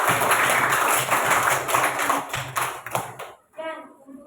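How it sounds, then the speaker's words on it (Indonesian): A classroom group gives dense, steady applause for a student group, the claps filling the first three and a half seconds before cutting off into a brief voice. "Tepuk tangan untuk kelompok Afif."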